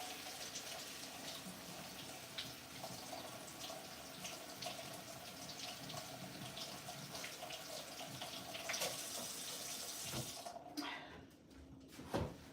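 Tap water runs steadily into a sink while a carved taro root is washed, a continuous close splashing rush that shifts briefly near the end.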